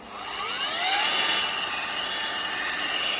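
An electric power buffer runs against a car headlight lens during restoration, a loud continuous high whine that rises as it spins up and then holds steady with shifting tones, close and alone.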